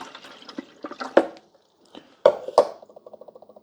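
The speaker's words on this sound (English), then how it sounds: "We're going to fill it all the way up there with water." Fresh water poured into the reservoir of a GE Profile Opal nugget ice maker after a vinegar descaling, heard as close splashes, clunks and drips that taper into quick regular droplets.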